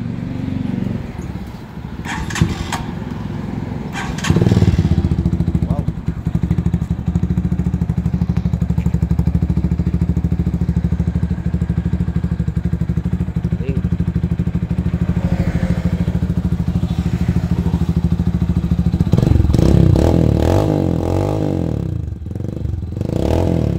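A Classic 250i motorcycle fitted with a bullet pipe and no silencer, revving loudly and close by with a steady rumbling roar, rising in bursts near the start and toward the end.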